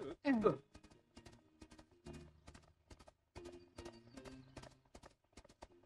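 Rhythmic hoof clip-clops, fairly close, with a brief loud whinny at the start and talking over much of the sound.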